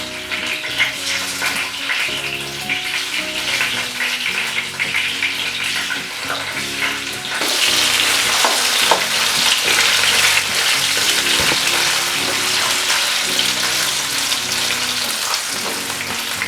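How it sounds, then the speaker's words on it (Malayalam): Potatoes fry in hot oil for a home lunch, giving a steady, loud, dense sizzle that swells louder partway through and continues without speech. "ഇനി ഇതൊന്ന് ജസ്റ്റ് ഫ്രൈ ചെയ്ത് നമുക്ക് എടുക്കാം"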